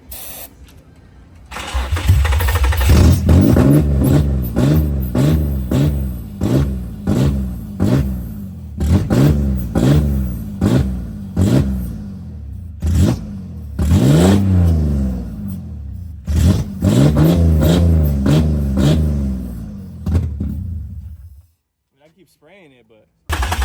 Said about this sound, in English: he's trying to give it gas, and like the throttle's going